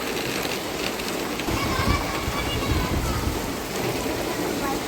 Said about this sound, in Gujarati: જોરો શોરોમાં વરસાદ ચાલુ થઈ ગયો છે